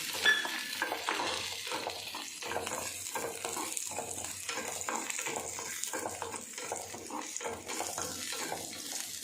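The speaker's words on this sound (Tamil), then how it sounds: "மூணு பூண்டு இதை சேர்த்துக்கலாம் இதையும் சேர்த்து நல்லா வதக்கலாம்" Onion and garlic sautéing in a pan for mango chammanthi, a steady low sizzle broken by rhythmic scraping stirs throughout, fairly quiet and without talk.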